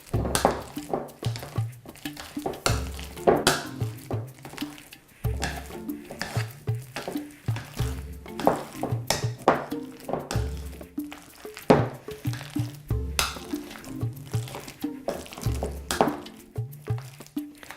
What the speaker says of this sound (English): Mashing them up by hand is really the best way to go for this recipe